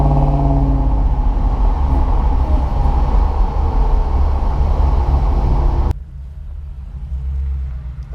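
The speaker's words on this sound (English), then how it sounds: "It's not even moving, it's just smoking them." A Hellwagon car does a burnout while stationary, its engine roaring in a loud, steady rumble with tire noise for about six seconds before cutting off sharply to a quieter idle.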